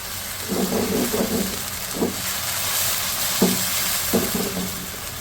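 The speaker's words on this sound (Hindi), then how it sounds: "और अब हम डाल देंगे ये सॉस जो हमने बनाई थी।" Sauce for Kung Pao chicken hits a hot wok with a steady loud sizzle and hiss, broken by several short scraping stirs of a spatula.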